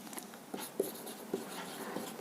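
Chalk or marker writing on a board during a physics lesson on threshold wavelength: soft scratchy strokes with a few sharper taps, quiet and close, with no talking.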